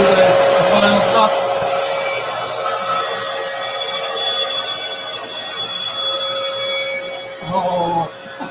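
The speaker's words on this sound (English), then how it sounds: "Take it over to the fine bandsaw and then do the final cut." A fine bandsaw in a woodshop making a final cut on a cane, a steady buzzing whine that holds throughout and fades slightly midway, close and fairly loud with brief voices near the start and end.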